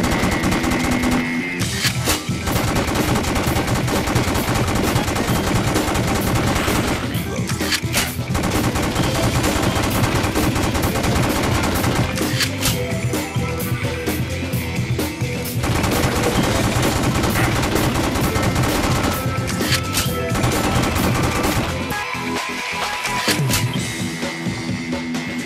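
Gunfire in the video game The House of the Dead Overkill: dense, continuous shooting layered over a loud game soundtrack and effects, sustained throughout with brief dips.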